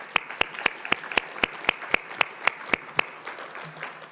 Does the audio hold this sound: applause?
yes